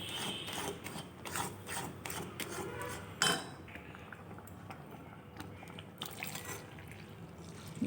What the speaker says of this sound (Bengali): জল দিয়ে দিচ্ছি, জলটা মানে ডালটা একটু ফুটবে